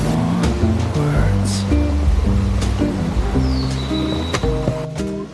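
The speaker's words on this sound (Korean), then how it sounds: "시원한 물소리가 피로를 잊게 합니다." A cool mountain stream on Jirisan rushes loudly over rocks, a continuous close wash of flowing water with some steady tonal hum beneath it, no voices.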